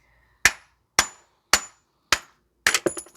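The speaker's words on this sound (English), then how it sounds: "Now you can just hammer out the hub now from here." Five sharp metal hammer blows on a rusted, heat-warmed rear wheel hub assembly of a 2010 Subaru Outback 3.6, evenly spaced then a quick cluster of strikes at the end, close and loud with ringing decay.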